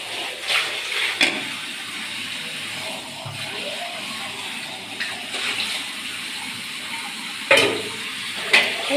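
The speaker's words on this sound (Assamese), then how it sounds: "এইফালে মাছ ফ্ৰাই হৈ আছে" Fish frying in a pan in a home kitchen, with chicken pakoras and mutton also cooking nearby; a steady close sizzle and hiss runs throughout, broken by a few sharp clinks and crackles.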